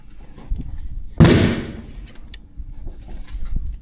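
A single sharp rifle shot from a .300 Norma Magnum on an extreme long-range ranch course, a loud close crack with a brief echoing tail standing out over low background rumble.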